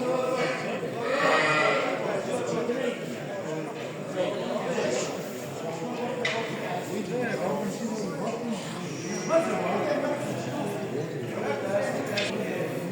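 Sheep bleat now and then amid a busy livestock market, mixed with people talking and shuffling sounds throughout.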